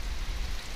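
A steady, dense hiss of rain pattering on a surface, close and continuous, with no voices.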